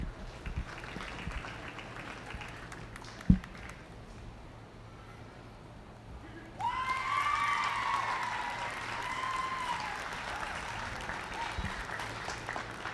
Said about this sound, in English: Give them a big round of applause when she does that.